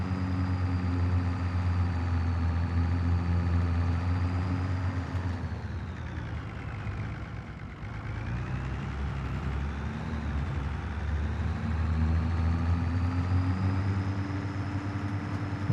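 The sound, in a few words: tractor engine in video game Farming Simulator 25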